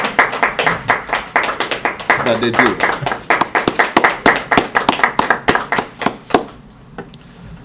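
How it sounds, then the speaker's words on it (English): A small crowd claps during a press conference for the Virgin Gorda Easter Festival, with many sharp, distinct claps close by that thin out and stop near the end, while a voice speaks over part of it. "let's give them a round of applause"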